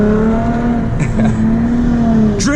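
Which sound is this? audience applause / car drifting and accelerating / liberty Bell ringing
car drifting and accelerating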